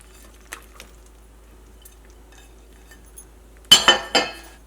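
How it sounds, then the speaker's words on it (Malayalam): Fried chicken goes into a pan for chilli chicken and is stirred: a few faint clinks, then a loud burst of metal utensil scraping and clattering against the pan near the end. "ഇനി ഇതിലേക്ക് നമ്മൾ വറുത്ത് വെച്ചേക്കണ ചിക്കൻ ഉണ്ടല്ലോ, ചിക്കൻ ചേർക്കുക."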